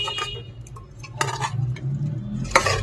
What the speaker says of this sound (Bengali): চামচ দিয়ে নাড়া দিয়ে দেখি